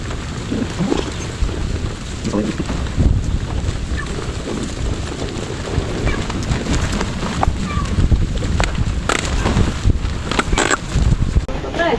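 Strong wind buffets the microphone continuously with a loud, rumbling roar, and occasional faint voices can be heard beneath it.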